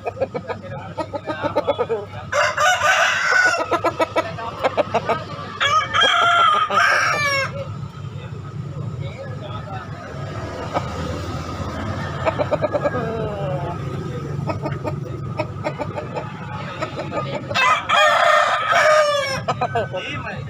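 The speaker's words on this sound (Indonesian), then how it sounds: "ini adalah tampakan dari ayam yang ada di Pasar Daya Makassar" Chickens and roosters at Daya market in Makassar crow loudly several times, with clucking and market noise between the crows.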